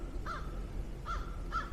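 Crows caw outdoors in snowy woodland, three short harsh calls at moderate distance over a low rumbling background.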